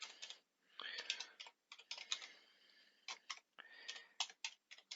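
Rapid typing on a computer keyboard, crisp close key clicks in quick bursts separated by short pauses, faint and alone.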